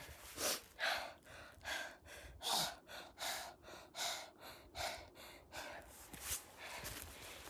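Heavy rhythmic panting from a person hiking uphill on a sunny autumn trail, close to the microphone, about a dozen deep breaths in steady succession with no talking.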